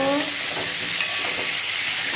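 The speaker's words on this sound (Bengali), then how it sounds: "পটলগুলো ভেজে নেব" Steady crackling sizzle of pointed gourd frying in hot oil, close and continuous, with a brief stirring scrape at the start.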